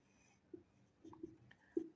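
Pen writing on paper while working through a physics problem, faint scratchy strokes and small taps in short irregular bursts, close and quiet with no voice.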